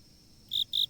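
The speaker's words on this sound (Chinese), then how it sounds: "蟋蟀的鸣叫声，以及树叶的沙沙声。" Crickets chirp in a forest at night, two short, bright, high-pitched bursts in quick succession standing out clearly over a quiet background.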